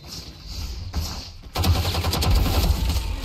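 Gunfire in the video game Valorant: a few isolated shots, then a sustained rapid burst of automatic fire from the player's weapon, close and sharp, with no talking over it.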